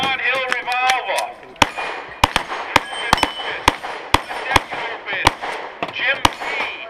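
Revolver shots ring out at an outdoor plate shoot, a string of sharp loud cracks roughly every half second with plates clanging, after a call and spoken commands at the start.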